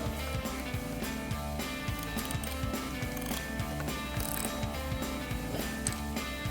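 Ratchet wrench tightening a nut on a RAM 2500 battery terminal, a steady run of quick pawl clicks at close range with no talk.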